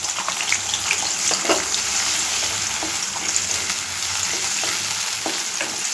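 Tomato and onion go into a pan of frying masala, giving a steady, close sizzle with faint stirring taps and no talking.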